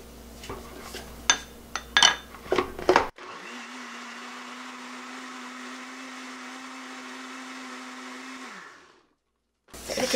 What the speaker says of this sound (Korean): 반반 넣어서 믹서기에 갈아줍니다.